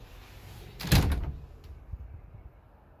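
A closet door in a 2011 Fleetwood Tioga RV slides and bumps shut once, a short, close wooden knock with a brief rattle, then quiet.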